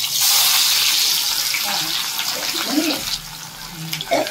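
Onions dropped into hot mustard oil left from frying rohu fish give a steady, close broadband sizzle and hiss that swells loudest at the start, with faint stirring clatter underneath.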